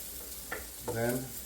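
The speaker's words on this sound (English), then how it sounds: "what I'm going to do is caramelize this garlic a little bit" Garlic caramelizing in a pan sizzles softly and steadily up close, with a couple of brief stirring scrapes and a faint murmur of a voice partway through.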